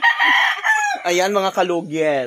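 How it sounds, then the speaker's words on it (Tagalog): A rooster at a rural Filipino home crows loudly and close, several drawn-out harmonic calls in quick succession, with a brief spoken remark mixed in. "Yan ang manok ni Mister."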